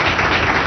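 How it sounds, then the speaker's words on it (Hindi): Studio audience applause welcoming guests on a televised Hindi political debate show, a brief, dense burst of many hands clapping together, steady and loud throughout. "जोरदार तालियों से इनका स्वागत कीजिए।"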